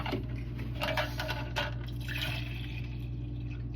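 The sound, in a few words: filling a water bottle with plain water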